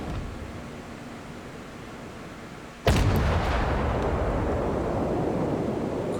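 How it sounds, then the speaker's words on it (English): Naval guns in a warship battle game fire a single loud, sharp salvo at an enemy Baltimore cruiser, cutting through a steady engine and sea rumble, followed by heavier sustained roar; no talking. "We fire off at the Baltimore again, hoping to get some shots in as he charges our North Carolina."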